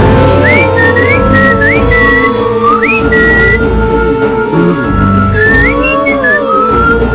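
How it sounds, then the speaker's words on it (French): Someone whistles short rising phrases, a few bright repeated calls with pauses between them, loud and close over a busy background of other sounds. "Dépêche-toi de siffler, tu entends?"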